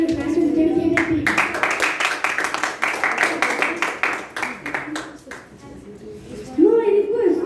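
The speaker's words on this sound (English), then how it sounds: "Please give a huge round of applause to our general evaluation and his dedicated team." Audience at a youth leadership meeting breaks into a burst of hand clapping, a run of dense close claps that tapers off, with voices speaking before and after.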